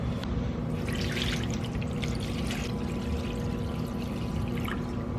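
Couple gallons of generic distilled white vinegar pour into a drain pan holding a rusty brake rotor, a steady continuous liquid rush with splashy trickling, close and moderately loud throughout.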